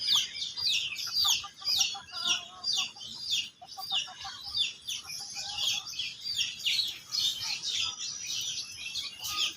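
Domestic chickens on a small village poultry farm cluck and chirp repeatedly in quick, overlapping bursts, fairly close and steady throughout with no talking.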